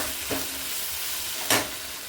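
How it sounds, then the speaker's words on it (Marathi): Maggi noodles are stir-fried in a pan, giving a steady close sizzle throughout with two louder scraping stirs, one early and one a little past the middle. "मॅगी झाकण मी काढून ठेवलं आणि मॅगी एकदा परतून घेतली."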